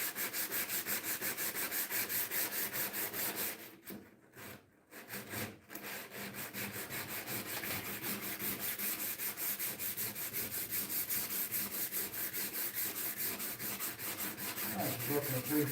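Worn 80-grit sandpaper rubbed by hand inside a car engine bay, a close, rapid back-and-forth scratching with a brief pause partway before the strokes resume steadily.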